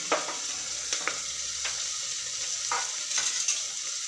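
Peas and potatoes tipped into onions frying with whole spices for masala khichdi, a steady close sizzle broken by several scraping stirs of a spoon against the pan, with no talking.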